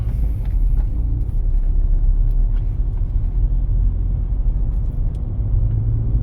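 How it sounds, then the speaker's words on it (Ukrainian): Minibuses pull away in city traffic, a heavy continuous low rumble of road vehicles and engines heard from inside a car, with no talking. "Маршрутки від'їжджають, тому їдемо."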